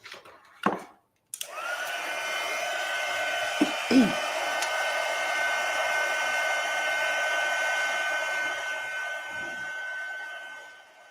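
Heat tool switching on after a couple of clicks, then blowing a steady whirring hiss while melting embossing powder on a card, with a few faint handling knocks before it cuts off near the end.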